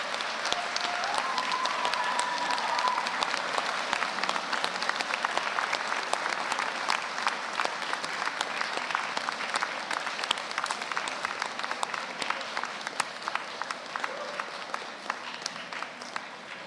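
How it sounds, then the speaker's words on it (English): Graduates at a Bath Spa University art, film and media ceremony stand and applaud their loved ones, producing a long, even wash of hall-filling clapping that continues at steady strength throughout. "give them an enormous round of applause"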